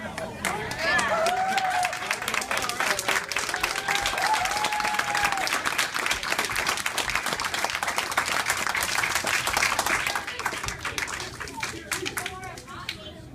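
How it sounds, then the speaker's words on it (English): A crowd at a Bone Crusher youth football season party breaks into a round of applause, dense clapping with cheers and chatter rising quickly, holding steady, then thinning toward the end. "give a round of applause to our, I think we have probably in the whole state, at any level of football, the best website"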